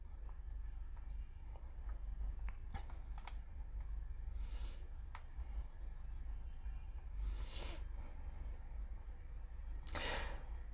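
Mouse clicks while working in MS Word come as sparse, faint, sharp ticks scattered over a steady low room hum, with no voice.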